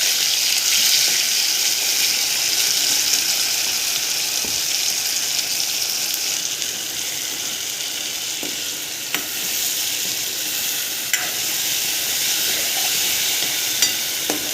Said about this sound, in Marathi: आता आपण हे शेंगदाणे मिरचीचा गोळा यामध्ये टाकत आहे